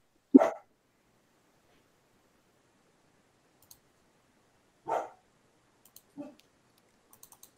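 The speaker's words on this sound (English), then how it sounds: "I don't know if you guys can hear. That's Prudence, my dog" A pet dog gives two short, loud barks several seconds apart in an otherwise quiet indoor room, followed by a fainter yelp and a few light clicks.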